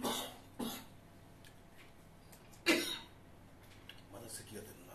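Coughs during an Okinawa radio broadcast from Ginowan: a few short, sharp bursts, one at the start, one near the middle and a softer cluster toward the end, over a quiet studio background.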